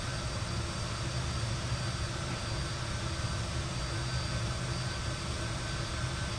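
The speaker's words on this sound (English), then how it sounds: "it's very true how loud the engines are." A Fokker F28's jet engines in the Microsoft Flight Simulator video game produce a steady, loud broadband roar that holds constant throughout with no talking.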